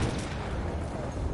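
Dense, continuous rumbling explosions and gunfire fill a Battlefield 1 battle scene, a loud, unbroken wall of booms and shots with no clear gaps.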